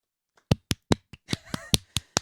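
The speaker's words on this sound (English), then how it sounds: "I'll give you some applause." Handful of people clapping after a martial arts belt ranking announcement, about ten separate sharp claps in an uneven rhythm, close and fairly loud, with no talking.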